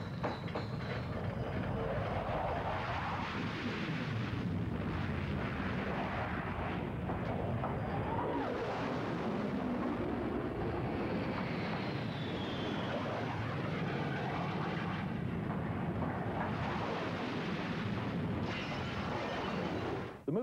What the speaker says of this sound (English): bombers streaking overhead on their way to begin World War III